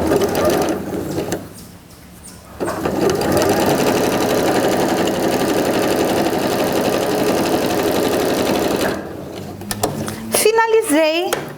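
A sewing machine stitches a quilt block in a steady, loud whirring run of several seconds after a short pause, with a voice talking briefly before and after.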